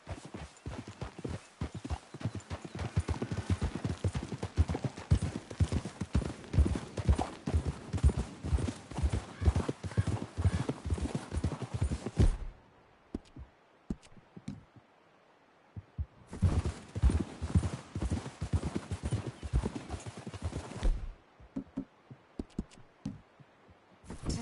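Horses walk in Red Dead Redemption 2, with a steady, close clip-clop of hooves running on for long stretches and then breaking off into near silence before starting again.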